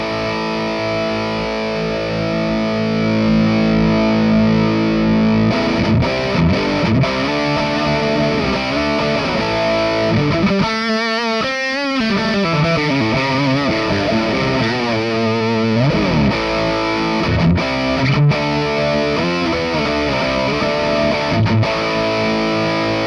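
An electric guitar played through Amplitube distortion and modulation effects into a Joyo amp gives heavily overdriven, sustained chords and riffs with a chorus-like shimmer, loud and continuous throughout.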